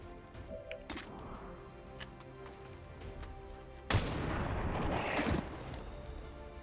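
A single gunshot rings out in the turn-based tactics game XCOM, a sudden sharp crack followed by a short, loud rumbling tail, set against a faint ambient game background.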